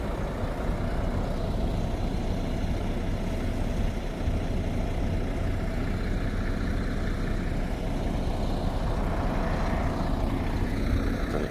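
The engine of a fairground ride idles steadily at a fair after being started, a continuous low rumble that holds constant and fairly loud throughout on a cold morning.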